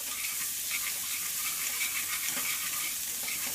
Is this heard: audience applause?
no